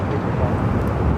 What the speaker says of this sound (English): that A380 Super coming in from Sydney, decided to head to the south side, arrived on 25 left